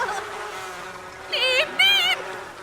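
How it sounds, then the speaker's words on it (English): A swarm of bees buzzing in the Sims-based game Simvivor: two close, loud droning bursts of wavering insect buzz, each under a second, over a soft background hum. "Oh, a swarm of bees is attacking Julia."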